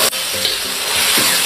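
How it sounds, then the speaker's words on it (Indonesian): Sizzling of spices hitting hot oil in a pan for a grilled trevally fish recipe, a steady loud frying hiss with a brief stir scrape near the end, no voices. "Panaskan minyaknya terlebih dahulu, baru kita masukkan bumbunya"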